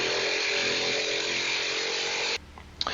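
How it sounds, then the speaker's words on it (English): A jigsaw buzzes steadily and loudly while cutting a handle hole through a wooden charcuterie board, then stops abruptly, leaving a quiet pause with a couple of faint clicks. "then cut that out with a jigsaw"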